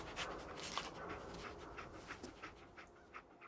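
Dogmeat, the dog in Fallout 4, pants quietly in quick irregular huffs of breath, close but faint, with nothing else heard.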